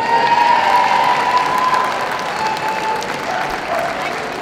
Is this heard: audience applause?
yes